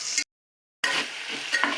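Onion and potato sauté in a pan for masala khichdi with a close, bright sizzle and stirring scrapes, cut by a brief gap of total silence.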